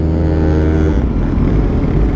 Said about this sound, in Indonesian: menurut gua ini suara mesinnya kasar banget